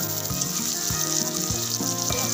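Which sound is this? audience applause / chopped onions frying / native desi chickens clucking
chopped onions frying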